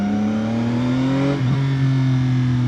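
A 2025 CFMoto 675SR-R three-cylinder motorcycle revs on the road, its loud engine drone climbing steadily in pitch, dipping briefly at a gear change, then pulling on strongly and close.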